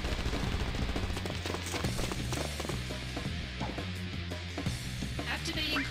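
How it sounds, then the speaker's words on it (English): Dense, rapid gunfire from a Crisis Core: Final Fantasy VII battle, with overlapping shots and automatic bursts crackling continuously over a loud, busy game soundscape for the whole stretch. "We got people shooting."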